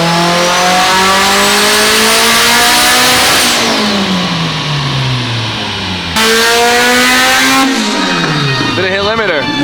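A car engine revs hard and climbs in pitch toward the rev limiter, drops, then surges again with another rising run, very loud and close, with tires squealing briefly.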